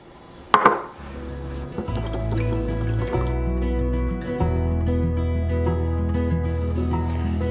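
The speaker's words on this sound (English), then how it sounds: "I'm going to add just a little bit of water." A short splash followed by a steady stream of water pouring into a container of eggs, with a soft trickle and bubbling that continues for several seconds.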